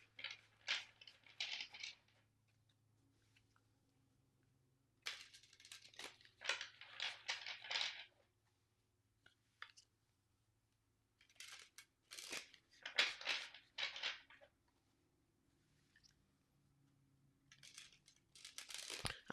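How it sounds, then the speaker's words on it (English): A deck of tarot cards is shuffled by hand in quiet bursts of crisp riffling and flicking, separated by near-silent pauses, close and soft. "I'm going to shuffle the deck a little bit"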